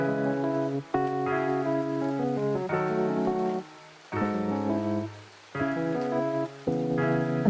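Soft steady rain hiss runs beneath a gentle electric piano melody, with a few brief pauses in the music.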